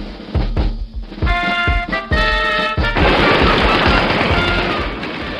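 Rapid gunfire rattles through a video game chase scene, bursts of automatic shots with sharp transients, then a dense sustained roar of firing and crashing debris that stays loud to the end.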